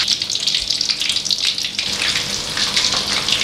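Steady, loud sizzling and crackling of fish frying in hot oil, a continuous bright hiss with small popping bursts throughout.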